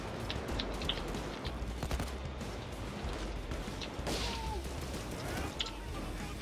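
Dense video game gunfire rattles through a tense heist shootout, with rapid overlapping shots and sharp bursts over a constant loud, crackling din that never lets up.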